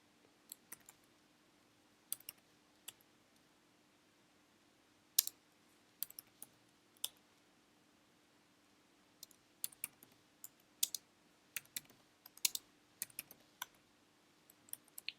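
Keys clicking on a computer keyboard, sparse irregular taps with short pauses, fairly close and quiet over a faint steady hum.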